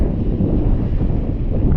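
Cold morning wind at a small beach, a dense, steady low rumble buffeting the microphone, loud and continuous with no voices.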